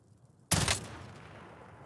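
A single sharp burst of gunfire from the video game Call of Duty: Warzone cracks out suddenly, then decays over about a second into a faint tail, with no talk.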